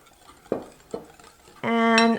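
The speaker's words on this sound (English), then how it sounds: "And I'm just going to whisk this together lightly." Two sharp utensil clinks against a bowl while whisking muffin batter, followed by a louder, ringing metallic scrape or tap near the end.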